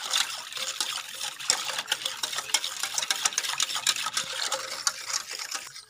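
A spoon stirs and whisks orange cake cream made from pastry cream, sugar and milk in a bowl, giving a steady wet scraping with quick clicks against the sides, close and continuous with no talking.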